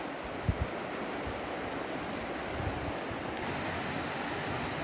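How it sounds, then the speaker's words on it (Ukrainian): Mountain river water in the Zakarpattia highlands swirls and rushes around stones, a continuous broad roar close to the microphone, with a couple of faint knocks near the start. "аж закручує за каміння від потоку води, такий наче аж водоворот іде"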